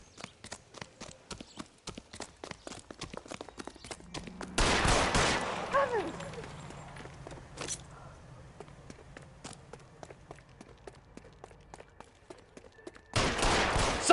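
Gunfire in L.A. Noire: a long string of rapid, sharp shots heard mid-distance, then louder blasts and a final heavy volley, with voices shouting in between.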